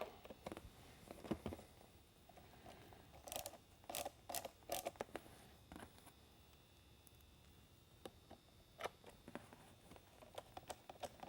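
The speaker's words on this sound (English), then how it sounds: "get the outer screws set" Outer screws being driven into a Whelen 6-inch low-profile LED interior light, faint irregular ratcheting clicks and short scraping bursts with quiet pauses between them.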